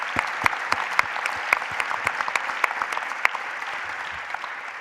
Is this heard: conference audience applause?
yes